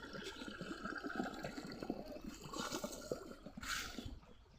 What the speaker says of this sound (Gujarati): જુઓ મિત્રો કેવું આવે છે પાણી, કોમેન્ટ કરજો.